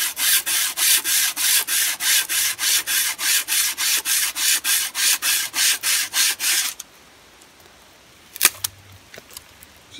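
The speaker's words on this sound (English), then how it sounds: "Doesn't take a lot of force. Just back and forth. You need to cut some firewood" A small hand saw cuts firewood outdoors for a shelter with steady back-and-forth rasping strokes, about twenty quick even pulls, then stops; a couple of sharp clicks follow in the quiet.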